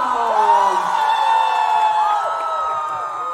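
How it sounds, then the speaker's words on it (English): A crowd at a 5 km fitness run flag-off cheering and whooping for a fitness celebrity's arrival, a sustained chorus of shouts and yells without much audible clapping. "let's give it up the loudest round of applause"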